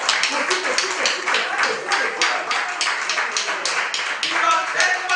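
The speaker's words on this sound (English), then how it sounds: "I need everybody to please give a round of applause to Jesus." Audience applause for a guest at a graduates' reunion gathering, a dense steady wash of many hands clapping throughout, with some voices mixed in.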